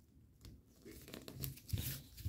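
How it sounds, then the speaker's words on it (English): Paper is creased into a mountain fold for an origami fighter jet, giving soft crinkling and rustling with brief crisp crackles, close and fairly quiet. "We're going to fold it, mountain fold it from that point."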